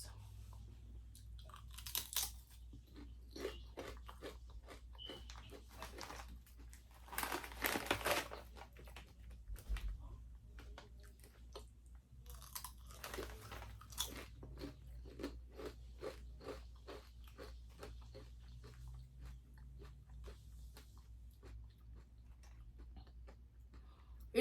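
Crunchy garlic-flavored potato chips are chewed close to the mic, giving a long run of quiet, crisp crunches and bites in an uneven rhythm, with a few louder bursts and no talking.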